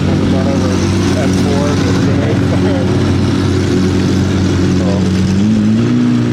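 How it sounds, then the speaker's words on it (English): Lamborghini Gallardo cars leaving a cars and coffee meet, a loud, close, sustained engine drone with rising revs near the end, mixed with crowd chatter. "All the Gallardos are leaving."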